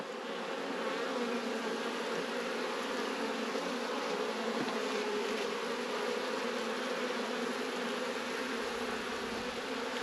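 Honey bees in a nucleus hive, a low steady buzzing hum with a few individual bees flitting close by, continuous and fairly quiet, no speech.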